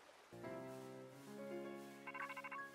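A Rotom phone rings in the Pokemon Scarlet and Violet video game, a sustained electronic chime that swells, then breaks into a rapid fluttering trill of bright tones near the end, heard alone without talk.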